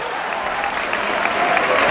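A campus audience claps hands in a steady, dense wash of applause, close and continuous with no talk over it.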